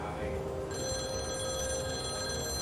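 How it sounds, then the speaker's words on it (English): A telephone rings continuously and loudly with a steady electronic bell tone, close by, in a dramatized kidnapping case; no talk over it. "the phone rang"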